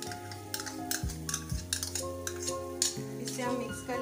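A spoon scraping and clinking in a pan as yogurt is stirred into frying onion paste and ginger garlic paste, with a soft sizzle underneath and steady music playing over the cooking noise.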